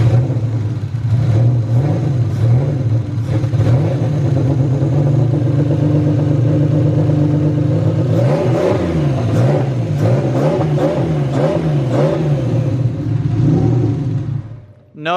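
A BMW E36 with an M52B25 inline engine runs at a loud, steady idle, then revs repeatedly in rising and falling bursts before cutting off at the end.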